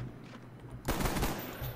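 A burst of rapid gunfire in the shooter game Call of Duty: Black Ops, loud and dense for about a second before tailing into a shorter follow-up burst.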